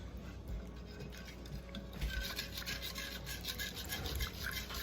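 Water drizzled steadily into Salisbury steak gravy in a home kitchen gives a continuous close, soft hiss with faint trickling and small clicks, no voices.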